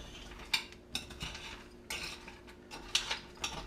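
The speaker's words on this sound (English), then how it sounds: "So, stir this around" A spoon scrapes and clinks through a thick homemade granola mixture in a bowl, with irregular bursts of stirring and faint taps, close and fairly quiet, with no talking.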